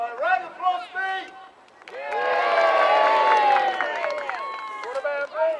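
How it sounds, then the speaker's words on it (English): Crowd cheering and applauding at a jousting combat display at Cardiff Castle, a loud, sustained swell of many voices lasting a few seconds, with a voice talking before and after it. "round of applause, me!"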